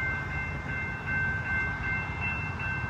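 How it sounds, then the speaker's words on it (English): A train passing a waiting truck produces a steady, loud rolling rumble that fills the whole stretch, with faint sustained high tones riding on top. "we are stuck behind this damn train"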